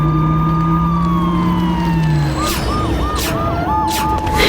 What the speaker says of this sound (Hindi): तभी पुलिस की गाड़ी आई।